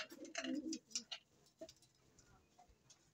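A fancier's pigeon coos softly a few times near the start, followed by faint scattered chirps and light tapping.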